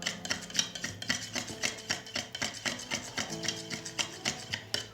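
Quick, regular scraping strokes of a spoon stirring yogurt into an egg hair mask mixture in a bowl, close and fairly soft, with a steady rubbing rhythm throughout.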